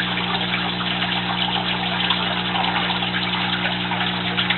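Steady rushing gush of water as a pump dumps water into an aquaponics grow bed, pouring continuously with a low pump hum underneath and no talking.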